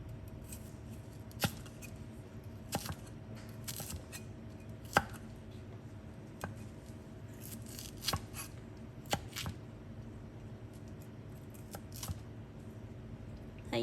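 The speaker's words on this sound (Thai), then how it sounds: "เราก็หั่นครึ่งนะคะ" A knife chops baby corn on a cutting board in scattered, sharp taps, irregularly spaced over a steady low background hum.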